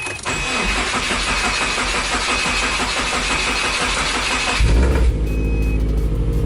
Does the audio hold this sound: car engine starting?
yes